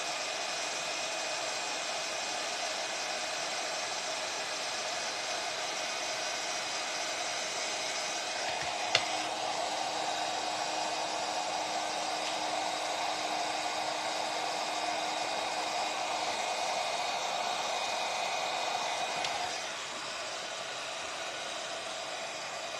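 A heat tool blows hot air over WoodUBend wood trim on a wooden box, a steady, close, whooshing hum that runs for about twenty seconds with a brief click partway through, then drops slightly in level near the end.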